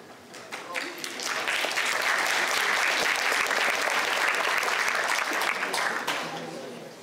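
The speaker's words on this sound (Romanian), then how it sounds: "Aplauze." A crowd at a technical high school event in Buzău claps steadily for several seconds, the applause building quickly, holding strong, then fading slightly at the end.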